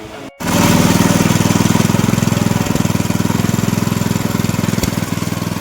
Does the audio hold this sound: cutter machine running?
yes